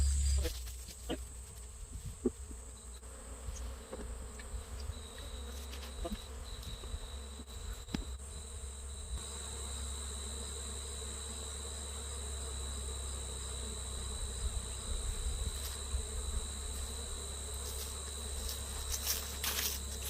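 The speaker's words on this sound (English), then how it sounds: "Let's see if we can get this swarm put in that box." A honeybee swarm hums in a dense, steady drone in a beekeeping yard, with scattered closer buzzes and light tapping over a low background rumble.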